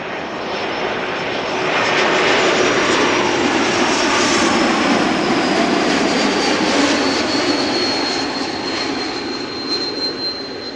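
A geared turbofan jet roars loud and close as it arrives at Amsterdam Schiphol, with a high, steady whistle riding over the broad engine rumble and swelling as it passes.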